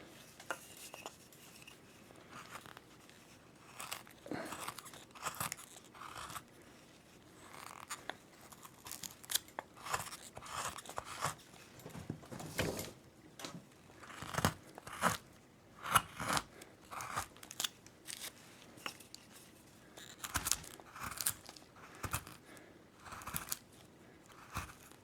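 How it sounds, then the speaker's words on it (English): Wood carving chisel making stop cuts into a carved female figure, producing a series of short, close crunching and scraping bursts with brief pauses between them, with no talking. "Do a stop cut with the chisel."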